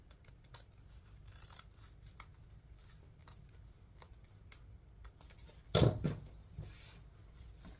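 Scissors snip through satin ribbon at an angle in a series of quick, quiet clicks, ending with one louder, longer cut, close up in a still room.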